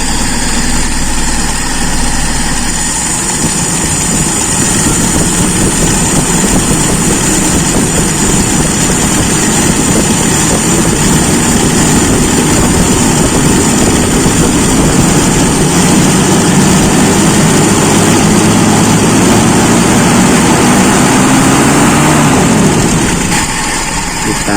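A Toyota Kijang engine runs steadily after a carburetor adjustment, a loud, continuous idle with a low throbbing hum and a slight rise in revs near the end, no voices.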